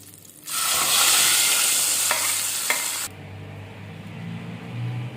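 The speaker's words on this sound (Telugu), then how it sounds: "స్టవ్ ఆఫ్ చేసుకొని మనం ముందుగా ప్రిపేర్ చేసుకున్న పప్పులో వేసుకుందాం" A hot tempering is poured into cucumber dal in a village-style kitchen and bursts into a loud, sudden sizzle. The sizzle hisses steadily for about two and a half seconds, then cuts off, leaving a quiet room.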